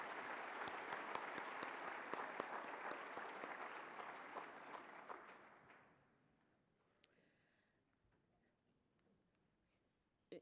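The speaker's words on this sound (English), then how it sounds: "Please join me in a round of applause for these outstanding students." At a math conference opening session, the audience applauds student competition winners: a full, steady wash of clapping for several seconds that fades out, leaving a quiet room with a few stray claps.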